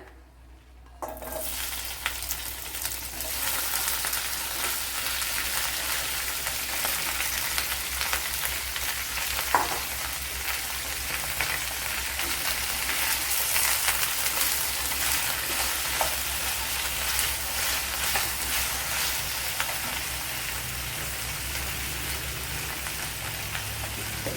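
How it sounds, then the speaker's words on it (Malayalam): Okra frying in a tablespoon of coconut oil, a dense steady sizzle that bursts up as the okra drops into the pan and then holds loud and close with faint stirring clicks, no voices. "ഒരു ടേബിൾ സ്പൂൺ വെളിച്ചെണ്ണ ഒഴിച്ചു കൊടുത്തിട്ടുണ്ട് അതിലേക്ക് വെണ്ടയ്ക്ക ഇട്ട് കൊടുക്കാം"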